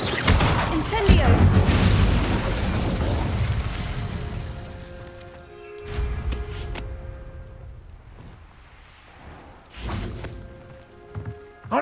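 A fire spell, Incendio, cast in Hogwarts Legacy bursts out in booming, crackling waves, loud at first, then fading into quieter stretches broken by a few sharper flare-ups and pops.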